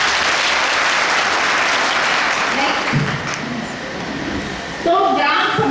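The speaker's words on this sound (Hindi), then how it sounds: "चलो तालियां से उसके स्वागत करें।" Audience applause at a national youth integrity conference, a loud wash of clapping that fades slightly, with a speaker's voice coming in over it toward the end.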